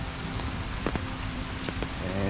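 Steady rain falling in a cemetery in Lexington, Kentucky, a constant broadband hiss of drops on surfaces with a few closer drips, moderate and unbroken, with no talking.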